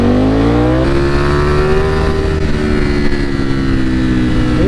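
A Ducati Streetfighter V4 motorcycle engine runs close and loud, a strong steady growl that climbs slightly in pitch early on and then holds a sustained, even drone.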